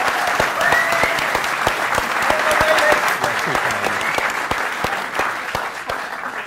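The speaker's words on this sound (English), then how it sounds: "I think we should have a round of applause for Seb for putting on a fantastic evening" Sustained audience applause at a short film festival screening evening: dense, steady clapping from a room full of people, close and loud throughout, with a few faint voices mixed in.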